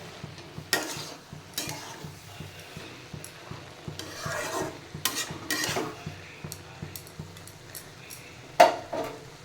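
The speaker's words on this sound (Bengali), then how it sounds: "এবার একটু নাড়া দিয়ে আবার ঢেকে রেখে দেবো, এটা পুরো গলে যাবে" Tomatoes cooking down in a pan are stirred with a spoon. Close, rhythmic scraping strokes mix with bursts of sizzling, and one louder clank comes near the end.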